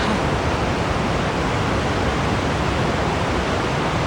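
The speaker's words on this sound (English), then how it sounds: "the sound of water gradually grows stronger" Rhine river water rushing toward the Rhine Falls in Switzerland, a steady, loud, broadband roar that holds evenly throughout with no voices.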